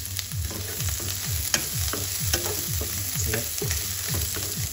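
Garlic and onion sauté in a hot pan, sizzling steadily while a utensil scrapes and stirs in a quick, regular rhythm. A voice briefly speaks.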